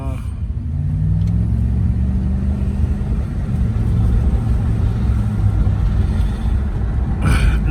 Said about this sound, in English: so I started the car up. Everything started up just fine.